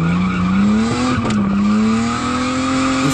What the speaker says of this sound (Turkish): Babası son model otomobilde önünü bile zor gören küçücük çocuğuna drift yaptırdı